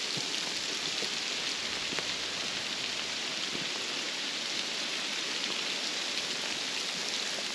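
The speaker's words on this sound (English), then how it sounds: "We're having hail. Tons of hailing." Hail pours down outdoors during a mountain archery hunt, a dense, constant hiss of countless small impacts with scattered sharper ticks, steady and close with no voices.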